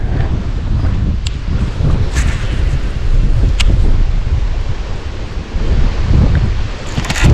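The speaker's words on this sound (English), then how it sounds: "But the wind is picking up too. It's getting a lot worse." Strong wind blows over a lake during a fishing trip, a loud, steady rushing roar with gusty swells and the odd knock, and no talking.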